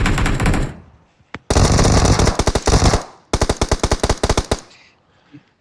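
Loud, close machine gun fire in a battle royale video game, a long sustained burst followed by two more runs of rapid, evenly spaced shots, then quiet.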